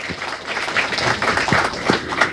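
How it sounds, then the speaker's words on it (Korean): A crowd at a book launch event in Daegu applauds for a university dean, with scattered distinct claps over a busy, reverberant room murmur at moderate level. "여러분들 김영수 영남대학교 사회과학대학 학장님께 박수 한번 보내주시면 감사하겠습니다."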